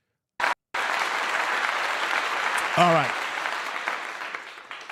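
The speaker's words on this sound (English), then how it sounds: "What a beautiful clap" Steady, dense hand clapping from a small audience rises right after a short opening burst and carries on for several seconds, with a brief spoken word over it and a voice cutting in near the middle.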